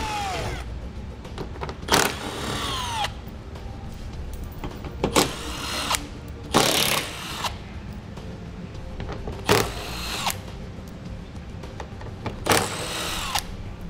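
A 10 mm socket works fasteners loose under a 2017 Nissan Leaf, with several short bursts of power-tool whirring spaced every few seconds over a steady background hum, fairly close.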